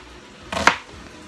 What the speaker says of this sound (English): I'm gonna cut it up into nice size chunks